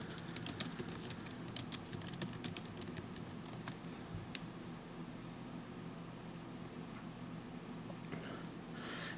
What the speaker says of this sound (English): And you're going to type in the username and password that was sent out to you.